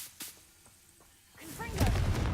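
The Confringo fire spell from Hogwarts Legacy is cast, with a sharp impact thump early on followed by a rising, crackling burst that swells loudly in the second half.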